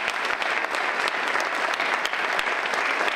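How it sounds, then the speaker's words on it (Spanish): Loud audience applause welcoming a chef and culinary researcher at a maize-themed gastronomy event, a dense continuous roar of many clapping hands held evenly throughout. "les pido un fuerte aplauso"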